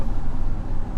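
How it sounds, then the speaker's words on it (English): The 5.6L Endurance V8 of a 2016 Nissan Titan XD Platinum Reserve pickup rumbles loud and close in a dense, throaty low drone that stays level for a brief second, with nobody speaking. "when you got an engine that sounds like this"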